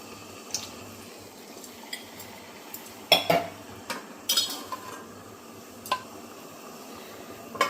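A metal lid is set over a cooking pot, leaving a slight gap, producing a few sharp clinks and scrapes of metal on metal against quiet kitchen background.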